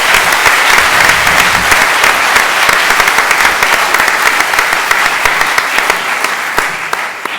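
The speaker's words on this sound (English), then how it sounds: "Please, a warm round of applause for all the people who did the big work." Loud, sustained applause from a large lecture audience fills the room, a dense and steady roar of clapping with no talk throughout.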